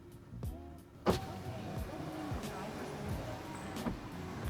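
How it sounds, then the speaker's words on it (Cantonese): Electric window motor on an AION UT car runs steadily after a short spoken voice command inside the cabin, a low continuous whir with a brief louder bump near the start. "Open the window"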